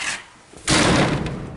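A door fitted with a closer and new weather stripping swings shut with one loud, close slam, its rumbling wash carrying on for about a second afterward.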